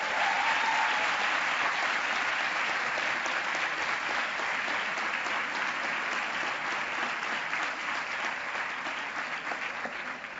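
Sustained audience applause at a graduation ceremony, a loud, dense field of many hands clapping for about ten seconds, steady with a slight fade toward the end, no speech over it.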